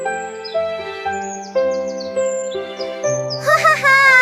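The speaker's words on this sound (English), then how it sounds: "Listen, the bird is singing beautifully." Animated birdsong plays as bright chirps and tweets over a gentle melodic music bed, with brief higher chirping flourishes near the end and no spoken words.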